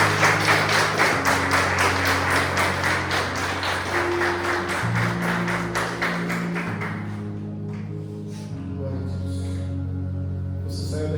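A church congregation claps in a fast, steady rhythm over sustained music, loud at first, then the clapping fades out after several seconds, leaving soft music and scattered taps.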